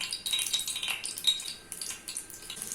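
Paneer cubes dropped into a pan of hot oil set off a soft, steady sizzle with light metallic clinks of a spoon against the pan, close and fairly quiet.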